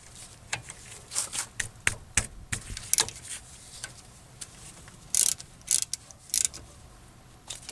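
A ratchet fitted with a 7mm socket works the brake caliper bolts on a 2006 Mazda 3 during a front pad and rotor job, giving close, quick clicking runs in irregular bursts with pauses, and no talking.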